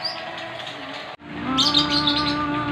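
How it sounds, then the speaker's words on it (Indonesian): A Medan magpie-robin sings at a garden cafe, a steady run of clear, close warbling phrases with a brief pause midway before the song resumes brighter and fuller. "Murai Medan ya?"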